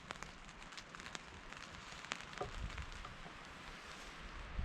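Rain starting to fall at a forest campsite, faint steady patter and scattered drops on surfaces with light crackles, soft and continuous, no talking.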